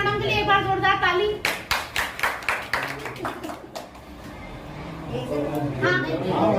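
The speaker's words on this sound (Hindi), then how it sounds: "सरोज मैडम के लिए एक बार जोरदार ताली" A classroom group claps loudly for a woman teacher in a rhythmic burst of distinct, close hand claps that fades out, with children's voices talking before and after.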